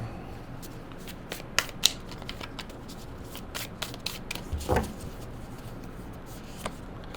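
Tarot and oracle cards are shuffled by hand, giving quick bursts of crisp riffling and soft slaps at irregular intervals in a quiet room.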